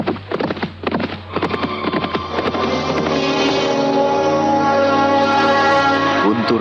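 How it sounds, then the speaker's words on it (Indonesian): Horses gallop hard in a dense, rapid run of close hoofbeats, with a faint whinny at the start and no speech over the pounding. "maka kuda-kuda itu pun berlari semakin kencang"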